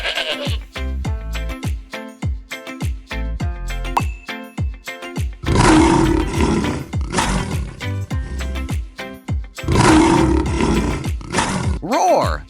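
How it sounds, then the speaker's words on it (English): A lion gives two long, loud roars, well apart, over playful children's background music. "Roar, the mighty lion."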